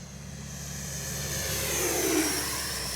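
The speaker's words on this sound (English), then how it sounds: "Just fly the plane, bring her right at us." A Freewing F-22 RC jet passes by with a steady, loud electric ducted-fan whine that swells toward a peak and then eases slightly as it moves past.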